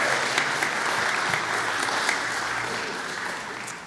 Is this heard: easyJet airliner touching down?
no